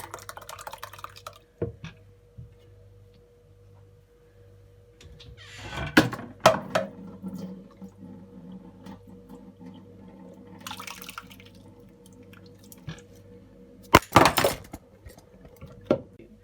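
Homemade lemonade is poured into a white cloth and strained, with faint trickling and dripping, and a few louder clinks and handling knocks from dishes breaking into a mostly quiet kitchen.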